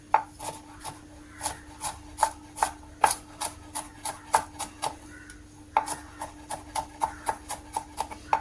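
Garlic cloves being chopped into small pieces with a knife on a board, a steady run of about twenty sharp, evenly spaced taps close by, with a short pause midway and no talking.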